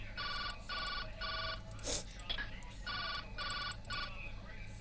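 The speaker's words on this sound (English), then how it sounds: "Telephone!" A video game telephone rings in repeated trilling bursts, three then a pause, then three more, loud and near, with a short clatter and murmur between the groups.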